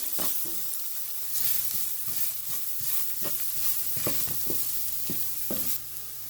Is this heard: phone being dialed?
no